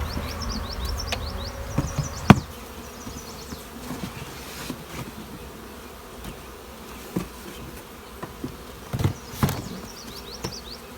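Honey bees buzz around a four-frame nuc hive in a steady, close drone of many insects, with occasional louder passes and faint knocks.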